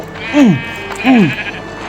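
Two loud, evenly spaced sheep bleats from the Minecraft video game, each a brief falling cry, ring out over faint background game sound.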